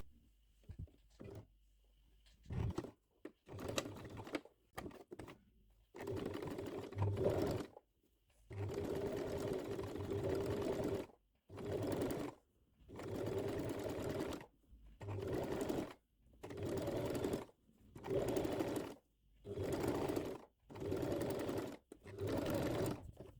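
A sewing machine topstitches the lower edges of a blouse collar in a string of short, close whirring bursts separated by brief pauses, with no talk.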